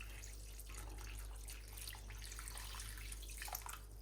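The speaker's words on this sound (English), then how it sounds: "And then I'm going to add more water" Water pours and trickles into a bowl of yam being prepared for frying in a Ghanaian kitchen, a soft, steady running splash heard faintly over a low background hum.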